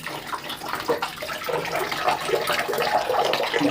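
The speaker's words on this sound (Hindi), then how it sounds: "उसके बाद पानी निकल रहा है हमारा" Hot water pours steadily from a small 3-litre electric geyser under repair, a continuous close splashing, gushing stream with no pauses.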